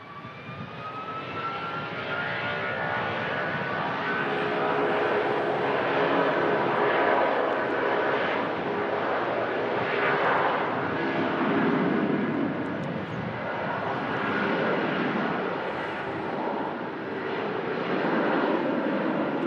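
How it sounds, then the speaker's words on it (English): A jet aircraft, a Jet2 Boeing 757, roars loudly and steadily with a rising whine, sustained throughout with no talk over it. "Lovely sound there from the Jet 275."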